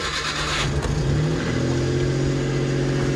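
A Suzuki Carry DA62T Japanese mini truck engine runs close and loud, holding a steady, slightly rising idle with no talk over it.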